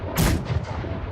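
Two deep booming cannon blasts from a video game in quick succession, loud and rumbling, with a short echoing tail after each.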